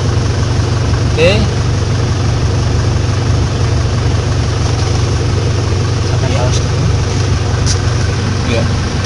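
A car engine idles steadily and close by, running during a test of the air conditioning. A low, even rumble continues throughout, with brief speech over it.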